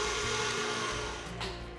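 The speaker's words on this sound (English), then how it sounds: "I'm going to put a block of cream cheese and a stick of butter into my stand mixer." A stand mixer whirs steadily, beating a block of cream cheese and a stick of butter for frosting; the loud, continuous motor drone dips slightly in pitch partway through.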